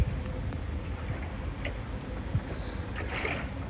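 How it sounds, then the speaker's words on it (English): Small boat motoring under engine power on flat water, a steady low rumble with wind buffeting the microphone and faint splashes, no talk. "A little bit of motoring to start with, because it's pretty flat."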